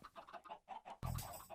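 Minecraft chickens cluck in short soft bursts inside a farm enclosure in the video game, a few quiet clucks followed by a louder burst.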